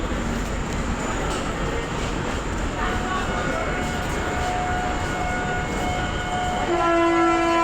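The Darjeeling Mail passenger train rumbles and clatters steadily on the rails, loud and close. Its horn sounds with sustained tones near the end.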